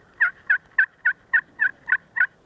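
Eight evenly spaced, sharp turkey yelps from a glass pot friction call, loud and close, forming a steady rhythmic series with nothing else around them.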